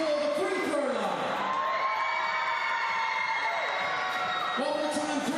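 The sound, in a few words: basketball crowd cheering for the free throw line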